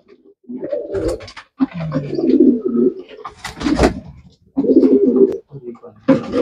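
Homer pigeons cooing in repeated throaty bursts, close by, with short pauses between calls and a little chirping mixed in.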